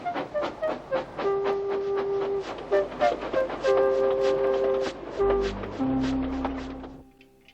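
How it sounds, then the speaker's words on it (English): A steam locomotive in the Trainz train simulator game puffs away in steady, evenly spaced chuffs, with sustained whistle-like tones over the beat before it drops to a lower rumble and fades. "Thomas puffed sadly away."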